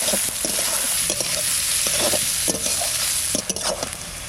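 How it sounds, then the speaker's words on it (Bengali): Chopped onions with whole garam masala sizzle steadily in a pan, a loud continuous hiss broken by repeated scraping stirs of a spatula, close up with no voices. "পেঁয়াজটা ভাজা ভাজা হয়ে গেছে"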